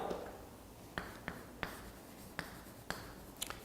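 A lecturer writes on a board in a Korean language class, leaving a handful of soft, sharp taps and strokes spaced irregularly over a quiet room hush, with no talking.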